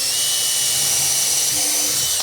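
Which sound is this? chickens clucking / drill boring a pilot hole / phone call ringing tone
drill boring a pilot hole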